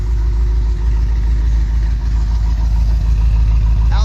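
An old car pulled from a barn after over ten years idles with worn rings, a loud, steady low rumble with a faint recurring knock running through it.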